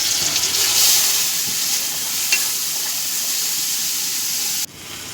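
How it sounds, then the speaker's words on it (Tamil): Greens (keerai) sautéing with onion in a pan, a steady loud sizzle with faint stirring scrapes, running alone until it cuts off abruptly near the end. "இந்த கீரையும் கொஞ்சம் நல்லாவே வதக்கிக்கலாம்."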